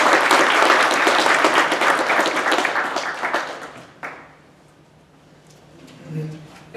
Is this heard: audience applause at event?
yes